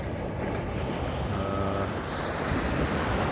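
Atlantic Ocean surf washes steadily onto an empty beach near Saco, Maine, a continuous broad roar of waves mixed with wind noise and no speech.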